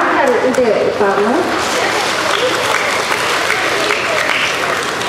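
Steady applause from an audience at a school Maulid Rasul celebration in Johor, honouring the school principal; dense continuous clapping throughout with voices and crowd murmur mixed in.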